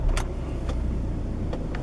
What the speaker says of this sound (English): and the engine starts